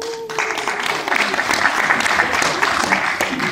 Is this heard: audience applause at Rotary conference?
yes